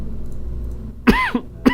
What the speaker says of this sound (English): Still trying to get rid of that cough.